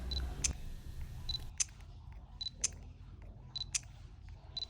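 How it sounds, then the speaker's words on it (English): A Fujifilm XQ1 pocket camera fires its shutter repeatedly, with crisp, fast clicks spaced about a second apart, close and clear against faint room noise, with no talking. "What really impresses me about the XQ1 is how snappy the shutter is."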